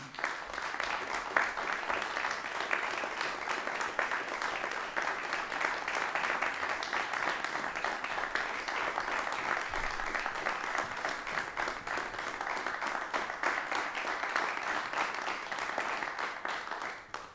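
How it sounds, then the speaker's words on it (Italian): A theatre audience gives long, even applause welcoming a pianist and a violinist to an autumn matinée concert, a dense wash of many clapping hands held steady for over fifteen seconds. "Io direi intanto di dare il benvenuto ai due maestri con un applauso"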